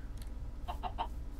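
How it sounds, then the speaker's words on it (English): Several short clucks from a chicken in the video game Minecraft, three evenly spaced mid-pitched calls over a low steady background hum, fairly close and moderately loud. "Yep, loose chicken."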